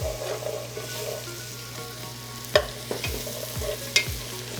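Chopped onions and pancetta sautéing for an Italian dish, a low steady sizzle broken by several sharp scrapes and clacks of a utensil stirring through the pan, heard up close without any voices.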